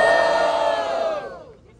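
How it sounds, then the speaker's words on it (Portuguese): A crowd at a Brazilian street rap battle roars and cheers loudly, many voices blending into one sustained shout that holds strong and then trails off toward the end. "Barulho pra quem gostou das mãos do Sabuó."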